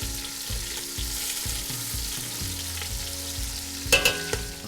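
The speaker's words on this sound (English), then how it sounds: "Carefully turn the ribs, making sure to saute all sides to develop flavor." Spare ribs sautéing in a pan with toasted five-spice, a constant close sizzle and fry with soft stirring and a few sharp clanks of a utensil near the end.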